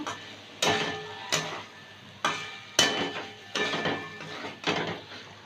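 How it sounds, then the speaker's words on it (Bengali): Vegetables are stirred into a spice mix in a pan while cooking vegetable dal. A utensil knocks against the pan six times, with sharp, spaced clacks and quiet pauses between them, and no voices. "সবজিগুলো মশলার মধ্যে দিয়ে দেবো মশলাটা একটু সবজির সাথে মিশিয়ে নেব"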